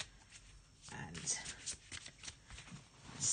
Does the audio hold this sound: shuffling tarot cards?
yes